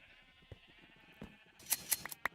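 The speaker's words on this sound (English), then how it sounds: "this is all of our sheep that we're using for all the carpet" Sheep in Minecraft give a few short, fairly faint bleats near the end, alongside small game clicks and sparse ambience.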